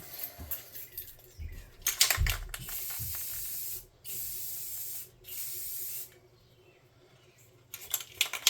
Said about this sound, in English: we're going to hit this with some matte clear coat.